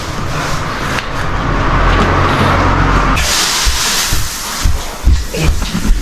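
Vehicles pass along a road beside the sea at dawn, a steady loud rushing wash that swells and shifts, then turns brighter and harsher partway through, with uneven thumps near the end.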